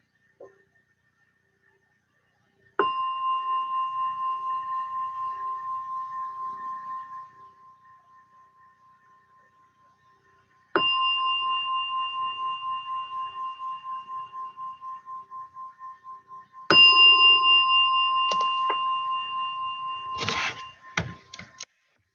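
A meditation gong struck three times at the close of a mindfulness session, each ringing tone sustained and slowly decaying, the last strike followed by a few soft knocks and rustles.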